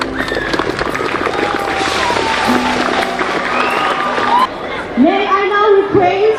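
A school audience at a Presbyterian mission high school event breaks into loud, dense applause mixed with crowd chatter, then it fades as voices and other sounds take over.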